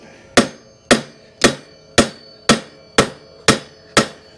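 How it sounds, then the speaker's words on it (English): Eight sharp metallic hammer strikes on a stuck nut land at a steady, even pace, each a loud close whack that quickly rings out. "So then you got to get your hammer, just whack it."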